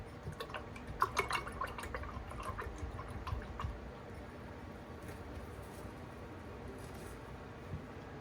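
A paintbrush is rinsed in a water jar while painting a winter night scene, giving faint, soft dripping and sloshing with a few light splashes early on, then quiet.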